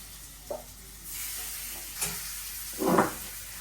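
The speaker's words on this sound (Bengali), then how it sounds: "মাছটা দিয়ে দিব এখানে হলুদ মরিচ হলুদ জিরা ধনিয়া মেখে এখন পেঁয়াজের সাথে দিয়ে দিলাম" Fish coated in turmeric, chili, cumin and coriander frying with onions, a soft continuous sizzle that swells in a few brief stirring bursts, close and without talk.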